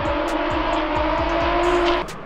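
Race cars lap the Brands Hatch circuit during a busy club race meeting, engines howling at high revs as they pass nearby, with a sustained loud drone and gear-change dips, fading slightly at the end.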